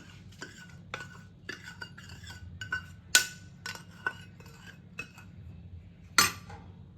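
A metal spoon mixes masala into amla and olive pickle, with a series of sharp clinks and scrapes against the pot at an irregular rhythm, close and clear with no talk.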